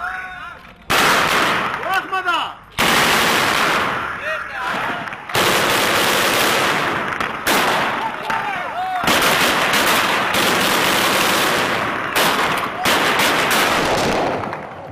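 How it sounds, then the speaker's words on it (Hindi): Taliban fighters in Orakzai firing at a commercial aircraft, with loud bursts of automatic gunfire and single shots crackling repeatedly, some echoing, and voices heard between volleys. "ये फायरिंग एक कमर्शियल जहाज पर की गई जिसे तालिबान अमरीकी जासूसी तैयारा करार दे रहे थे।"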